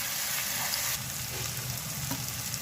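Tomatoes for chicken pasta sizzle and hiss steadily in a hot pan, a continuous close frying sound with no voices.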